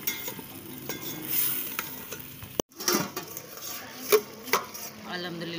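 Potatoes frying and being stirred in a pot with spices, a series of scraping stirs and clatters over a low sizzle, close by, with a brief gap midway.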